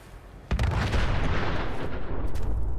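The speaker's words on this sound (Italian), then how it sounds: "Quell'esplosione nucleare cos'è stata?" A deep, sustained roar of a nuclear explosion in Fallout 4 begins with a sudden onset and rumbles on loudly and steadily with no voices.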